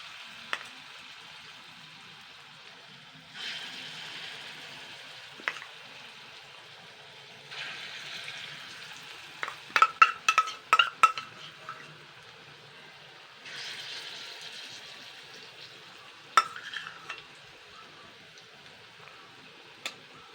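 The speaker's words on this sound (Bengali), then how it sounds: "নিয়ে আমি এর অল্প অল্প করে বড়ার আকার করে নেব, করে ভেজে নেব" Cucumber fritters frying in oil over a medium flame, a soft steady sizzle broken by a few louder crackling bursts and quick clicks, with quiet stretches in between.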